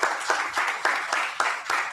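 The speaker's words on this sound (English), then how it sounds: "could we put our hands together and then give them a round of applause?" Audience applause closing a session at an international conference, heard as a short run of rhythmic, evenly spaced claps, fairly close and moderately loud.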